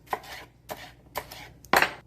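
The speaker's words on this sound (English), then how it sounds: "just sort of rough chopping them here into 1 to 2 inch squares" A knife rough-chopping yellow bell peppers on a cutting board makes four sharp, close chopping knocks at an uneven pace, the last one loudest and fullest.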